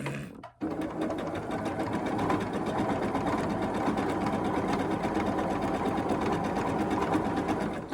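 A sewing machine set on a new table stitches in a steady, rapid rattling drone with a slightly odd tone, pausing briefly at the start before running continuously.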